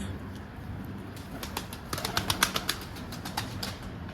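Pigeons coo softly and flap their wings close by, with a short burst of wing beats in the middle over a quiet background.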